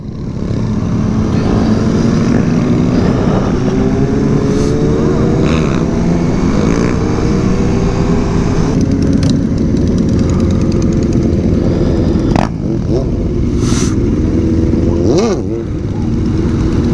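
A KTM RC390 motorcycle being ridden, its single-cylinder engine droning loud and close with rising and falling revs and shifts throughout, along with brief sharp noises near the end.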